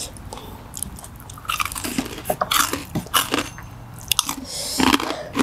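Crunchy, dry fried chicken feet being bitten and chewed at a Thai meal of khanom jeen with coconut curry, repeated crisp crunches and snaps close up with no talking.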